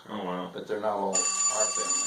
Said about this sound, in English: that new phone's ringing